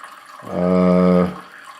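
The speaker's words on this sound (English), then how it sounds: "This is a pretty steady stream of water" A steady stream of water runs from a household tap, a loud smooth rush that swells for under a second and then fades.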